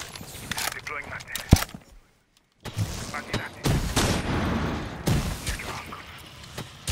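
Gunfire from a Rainbow Six Siege match comes as sharp bursts and single shots around a brief silent gap, mixed with in-game footsteps and thuds while a commentator talks over the action.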